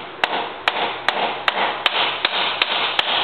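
A small hammer taps metal on a robot being repaired in a steady rhythm, about nine sharp strikes spaced evenly, close by against a background hiss.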